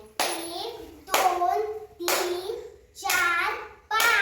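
A child claps their hands five times during a classroom counting lesson, each clap close and distinct at a steady pace, with a young voice counting aloud over the claps.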